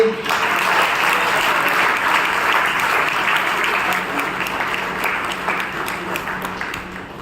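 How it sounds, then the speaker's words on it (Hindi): An audience at a spiritual program claps together, sustained dense applause with faint crowd murmur underneath, gradually tapering off toward the end. "तालियां जरूर बजाइए"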